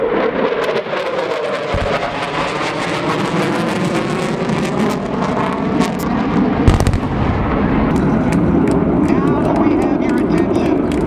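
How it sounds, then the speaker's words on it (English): F-14 Tomcat fighter jets pass overhead at the 2005 NAS Oceana airshow, a loud continuous jet roar with sharp bangs and crowd noise, while announcer talk runs underneath. "High and to the right, here come the Tomcats."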